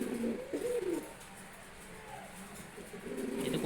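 Domestic pigeons kept in a room coo softly in winter, a few low, rolling calls near the start and end with quiet between them.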